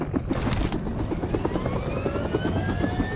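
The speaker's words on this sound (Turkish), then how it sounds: "Bin helikoptere." A helicopter in the video game PUBG Mobile gives off a continuous loud, pulsing rotor thrum with a rising engine whine, heard alone with no talk.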